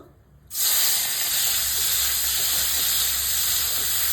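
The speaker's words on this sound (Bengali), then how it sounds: "এই গরম তেলের মধ্যে চিংড়ি মাছটা দিয়ে দেব।" Prawns added to hot oil set off a sudden loud, sustained hiss of frying close by that stays strong and even after the first burst.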